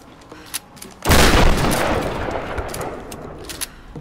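A single loud, booming shotgun blast in the Tomb Raider: Definitive Edition video game, set in Shanty Town, with a long rumbling decay over faint background ambience.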